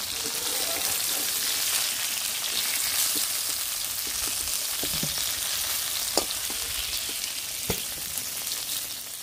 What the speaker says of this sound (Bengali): ভেন্ডিগুলো হালকা ভাজা হয়ে গেছে, এবার তুলে নেব